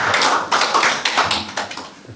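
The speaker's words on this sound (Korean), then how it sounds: "영광과 찬양과 감사의 박수를 치는 겁니다" Congregation clapping hands together in praise during a Korean church service, a steady run of sharp, fairly close claps with no voices over them.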